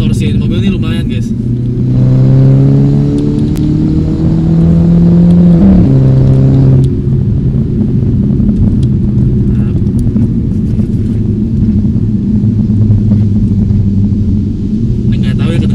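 A Mercedes C250 or E400 sedan fitted with a barrel-tune exhaust drives along, a loud, steady engine drone and rumble inside the cabin with a rising rev mid-way, while people talk over it.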